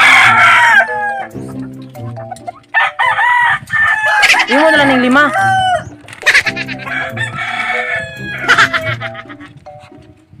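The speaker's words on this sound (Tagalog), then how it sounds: "ayan po yung mga manok" Several roosters kept at a home crow loudly and close by, overlapping calls with rising and falling wavering tones, mixed with clucking hens, while a person briefly speaks.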